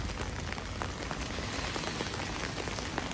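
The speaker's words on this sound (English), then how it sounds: "It rained and rained and rained today." Heavy winter rain pours down steadily in Medjugorje, a dense unbroken wash of drops drumming on surfaces. It stays constant throughout with no talking.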